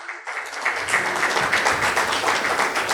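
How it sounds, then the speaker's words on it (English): An audience at an SME manufacturers and exporters summit in Chennai breaks into applause, a dense, steady patter of clapping that starts abruptly and continues evenly to the end. "So please give him a big round of applause."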